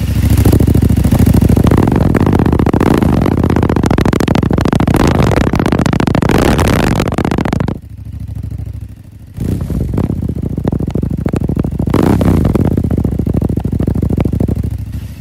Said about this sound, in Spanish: Vamos a acelerar un poquito para que puedan escuchar cómo se escucha la motocicleta